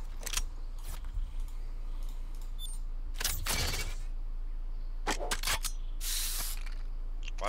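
Graffiti spray in the video game Valorant, three short hissing bursts spaced a second or two apart over quiet game ambience, with a few faint clicks in between.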